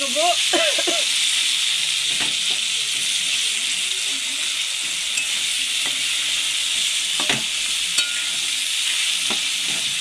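Potatoes frying for aloo dum with chili and cumin powder being stirred in, a continuous hissing sizzle with scattered scrapes of a spoon, and a brief voice at the start.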